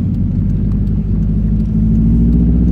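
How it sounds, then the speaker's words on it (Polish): A car driving along rural back roads, heard from inside as a loud, steady low engine and road rumble. "Jadę jakimiś bocznymi drogami do domu."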